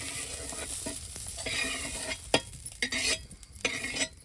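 Whole spices and dal roast in mustard oil. A quiet, steady sizzle carries repeated stirring scrapes and light metallic clinks of a spoon against the pan.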